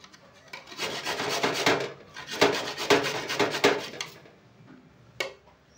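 A carrot rubbed against a grater in rhythmic rasping strokes, coming in two bursts of close, steady scraping, then a pause and a single short scrape.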